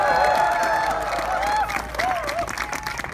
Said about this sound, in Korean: 여러분들이 박수를 치는 거 아닙니까?